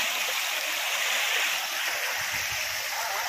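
A river swollen by extremely heavy rain rushes in a dense, continuous roar of churning floodwater, loud and steady throughout with no clear voices.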